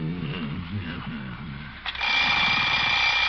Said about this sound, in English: Oh, alarm.